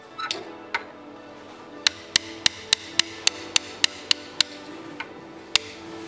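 A hammer striking a pin punch on a Graco airless paint sprayer pump gives sharp metallic knocks, mostly in an even run of about a dozen taps roughly a third of a second apart, close and clear over a low background hum.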